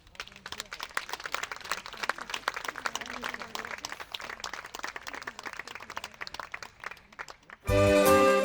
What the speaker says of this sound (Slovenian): Vi pa dajte tudi en lep aplavz.